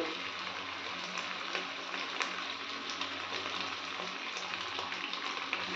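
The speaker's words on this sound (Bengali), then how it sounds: "এবার আমি এখানে সয়া সস দিয়ে দেব" Soy sauce sizzling in a pan while chilli paneer cooks, a steady dense hiss with small crackles running evenly throughout, close and moderately loud, with no talking.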